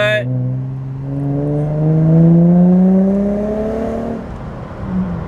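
A car engine on a Nissan G35 with an ultra quiet resonator rises steadily through the gears with a smooth, deep exhaust drone, close and fairly loud, with no harsh rasp.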